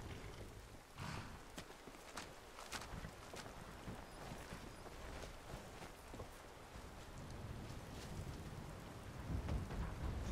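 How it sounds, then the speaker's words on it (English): Rain patters steadily across the Skyrim landscape during an in-game thunderstorm, with rolling thunder rising and falling underneath and swelling louder near the end, no speech. "Oh, it's raining."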